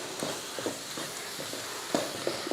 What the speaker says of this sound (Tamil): நல்லா இந்த மாதிரி வதக்கியாச்சு.